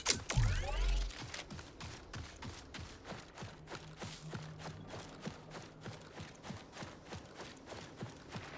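Bursts of rapid video-game gunfire in Marathon crackle in quick, rhythmic volleys, starting with a loud blast and continuing at moderate distance.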